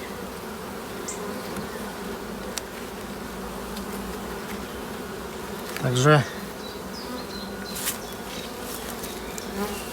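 Dense, steady buzzing of many bees close by at a hive as brood boxes are added, with a brief spoken word partway through.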